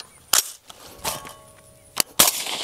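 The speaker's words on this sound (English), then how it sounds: "It did not fire when I pulled, it fired on release." Rifle fitted with a Franklin Armory binary firing system shooting outdoors: a few sharp, loud reports, two spaced shots and then a close pair, with no talking.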